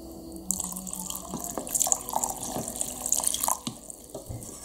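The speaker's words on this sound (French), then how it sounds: "Et puis je rajoute de l'eau." Water runs steadily from a tap or is poured into a pot of coconut milk curry in a home kitchen, a continuous close splashing and trickling that swells and gurgles with a few drips, with no talking.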